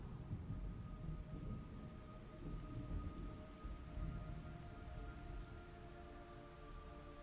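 Rain pours steadily in the video game Metal Gear Solid Delta, a continuous dense hiss with low rumbling thunder underneath and a faint sustained tone, without any talking.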